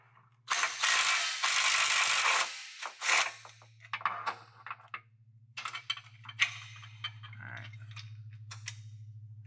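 Ratchet loosening a 15mm nut to remove a bracket near the DCT cooler lines of a 2020+ Shelby GT500: quick close bursts of clicking, then scattered ticks over a steady low hum.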